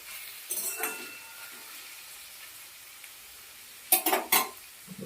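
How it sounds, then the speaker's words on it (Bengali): Snake gourd frying in a pan, stirred with a spatula: a soft background sizzle under two bursts of scraping and clattering stir strokes, one near the start and a louder cluster near the end. "সুন্দর করে নাড়িয়ে চালিয়ে ভালো করে নরম করে মাখ করে নিতে হবে"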